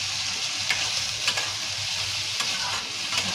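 Cumin and turmeric powder crackle and sizzle in a hot pan while being stirred, with soft scraping strokes over a steady frying hiss and no voices.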